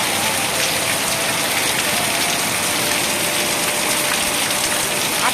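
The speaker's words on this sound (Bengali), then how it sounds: "আজকে দেখে প্রচুর জোরে বৃষ্টি হচ্ছে দেখো কীভাবে জল ঢুকছে" Heavy rain pours down in a dense, unbroken roar, with rainwater gushing and splashing in through an open door nearby throughout, no talking.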